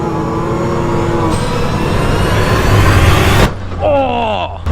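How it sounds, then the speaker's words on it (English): A 2022 Can-Am X3 side-by-side drives with a loud, close, steady engine roar that cuts off abruptly partway through, followed by a quieter running sound with rising whine-like tones. "Did I just pop the tire?"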